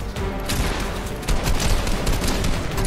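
Tactical shotguns and other weapons firing in a Fortnite battle, a dense, loud, continuous barrage of overlapping blasts that swells partway through.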